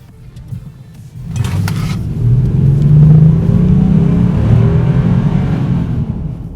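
A 2014 Subaru Legacy 3.6R pulls hard away from a stop. Its engine note swells and climbs into a loud, sustained drone that holds steady before easing slightly.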